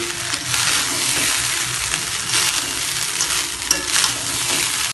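Egg fried rice fries in a pan on full high heat with a loud, dense, continuous sizzle and rustle, steady throughout, with occasional light scrapes and no voices.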